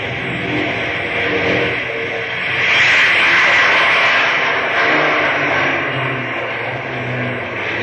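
Airplane engine revving for takeoff as a radio drama sound effect, a loud steady roar that swells in the middle and stays constant without voices.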